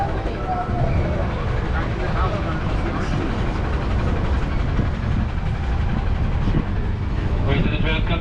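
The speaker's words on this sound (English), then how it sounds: "Wait till the tram comes to complete stop" A Disneyland tram rolls in and comes to a stop, a continuous engine rumble and rolling noise over several seconds, with people talking throughout.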